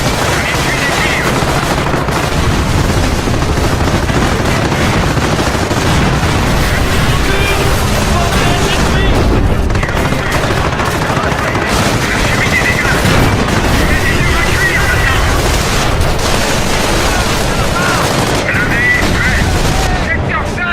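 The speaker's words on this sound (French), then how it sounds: "On essuie des tirs." Sustained gunfire and explosive booms from an action film battle scene, loud and dense throughout with rapid bursts layered under a busy mix, voices mixed underneath.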